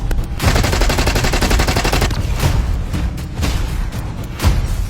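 Continuous rapid automatic gunfire in a first-person shooter video game, loud and dense, with a steady rattling burst followed by several heavier separate shots, no talking.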